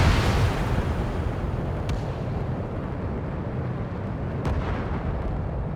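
A missile launches from a fighter jet in the Ace Combat 7 flight game, a loud roaring whoosh that swells at once and then holds as a thick rumbling rush, with two faint sharp clicks on top.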